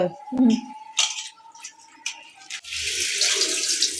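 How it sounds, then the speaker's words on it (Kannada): Hot water runs and splashes while something is washed by hand at home, with clinks of utensils and a steady pour over the last seconds; no talk. "ಇದಕ್ಕೆ ಸ್ವಲ್ಪ ಬಿಸಿನೀರು ಹಾಕಿ ತೊಳಿಬೇಕು."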